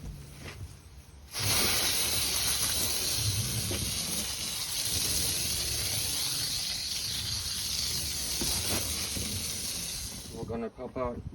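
A Bauer 2300psi electric pressure washer sprays soap through a black plastic nozzle, making a loud, steady hissing rush from close by that runs continuously for about nine seconds, then cuts off abruptly into brief rattling.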